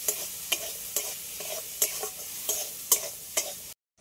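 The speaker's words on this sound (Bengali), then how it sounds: "এই আলুগুলো একটু লাল লাল করে ভেজে নেব।" Potatoes frying in oil with salt and turmeric, a soft steady sizzle broken by about eight evenly spaced spatula scrapes against the pan before cutting off abruptly.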